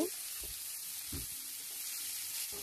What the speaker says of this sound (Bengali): এখন এগুলো একটু হালকা ভেজে নেব